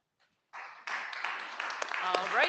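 Applause breaks out from a conference audience after a lightning talk, starting abruptly, rising into a dense patter of many hands, moderately loud and fairly close, with a voice heard over it near the end.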